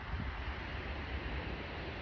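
Wind blows on a windy day outdoors where a campfire is being started, a steady, moderately loud rushing roar with soft low buffeting and no speech.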